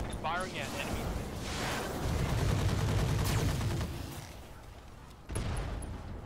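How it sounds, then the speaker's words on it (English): Mech weapons firing all at once in the game Roguetech, a dense rattling barrage of booms and mechanical clatter that swells in the middle and fades, then another burst near the end. "we're going to fire everything. Firing at enemy."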